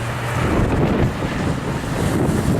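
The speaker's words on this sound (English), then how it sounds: "Quite windy." Strong wind buffets the microphone outdoors beside an obelisk, a steady broadband rush with low rumbling gusts that holds throughout, with no voices.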